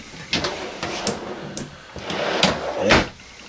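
A deep drawer in a 2019 Aria 3901 RV slides open and shut several times, with wooden knocks and scraping slides close by, then a firmer closing thud near the end.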